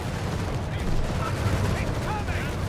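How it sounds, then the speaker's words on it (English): Grenade blasts and rattling gunfire from a Company of Heroes 3 battle between German and Allied infantry rumble continuously in a low, dense wash, with faint voices and small chirps over the din. "Grenades are being exchanged."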